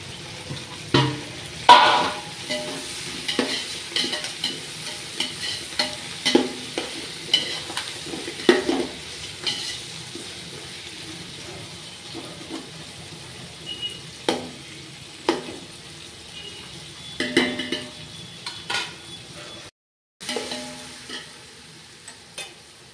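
Tomatoes and mint frying and being stirred in a pan for Sunday biryani: a low steady sizzle under repeated scraping strokes of a spoon against the pot, close by, with a brief drop to near silence toward the end.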